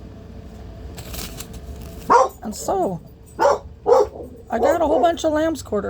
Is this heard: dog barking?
yes